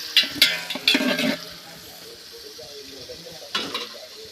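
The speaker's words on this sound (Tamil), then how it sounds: "இது போட்டு பேஸ்ட்டு போடணும் செய்யும்போது நல்லா வதக்கணும்" Paste for homemade biryani sautés in a pan, with a few sharp bursts of sizzling and stirring up front, then a quieter simmering hiss, and another crackling burst near the end.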